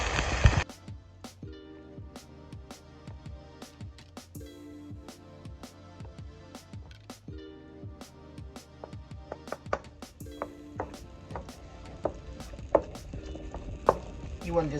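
A cleaver chopping lobster into small pieces on a board, steady repeated thuds at a brisk even rhythm, close and clear over quiet music.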